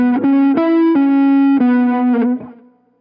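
An electric guitar plays a short lead phrase from a solo, a handful of sustained, effected notes with quick bends and slides, close and alone, fading out at the end.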